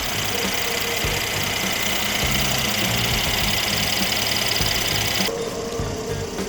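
A 2016 Mercedes-Benz S400L 4Matic idles with the engine bay open, giving a steady, close hum with a faint ticking clatter throughout, and the tone shifts slightly near the end.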